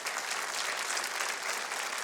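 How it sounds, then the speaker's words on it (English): A studio audience on a talk show claps for a volunteer joining the host, a brief, steady round of dense applause heard alone at an even level. "let's give her a nice round of applause"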